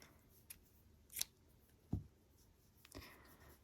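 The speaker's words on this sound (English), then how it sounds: "at this point I intend to cut the yarn" A few quiet, separate snips of scissors cutting through t-shirt fabric yarn during a crochet project, with soft handling rustles between the cuts.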